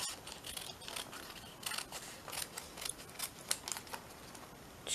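Scissors snipping a piece of green paper for a mixed media collage, a run of quiet, close crisp cuts and rustles with no talking.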